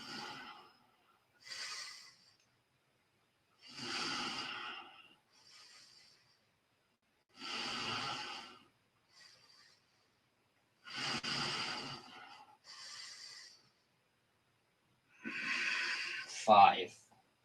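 Slow, deep breathing through an Ashtanga standing yoga pose, about five audible inhale-exhale cycles with soft, breathy rushes separated by quiet pauses, close to the mic, ending with a brief voice.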